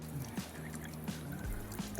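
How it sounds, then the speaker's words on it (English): A distant waterfall on a Costa Rica hike gives a faint, steady rushing wash far off, with light trickling detail and no talk. "I hear the waterfall, so that means we're getting close."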